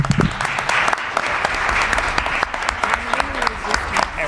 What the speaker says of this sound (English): I just want to give a round of applause to not only our superintendent that we have here